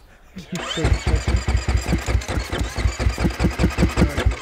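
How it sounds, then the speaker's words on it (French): A rally motorcycle's electric starter cranks an engine that will not fire, a fast, even, rhythmic churning that goes on for several seconds, close and loud, with a voice speaking over it. "Tu vois, ça entraîne le moteur, mais c'est tout."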